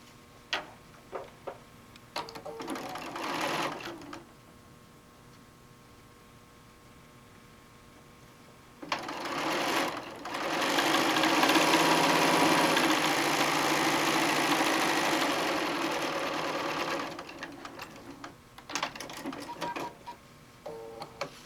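A sewing machine stitches quilt blocks together into a row, with a short burst of whirring near the start, a pause, then a sustained steady run of rapid mechanical stitching before it stops, followed by a few short bursts.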